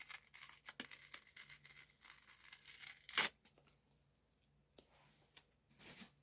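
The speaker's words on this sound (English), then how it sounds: "But I love score tape. You just rip it." Score tape is ripped by hand, a close, crisp tearing with a loud sharp rip in the middle and a few smaller crinkly pulls and taps around it, alone in a quiet room.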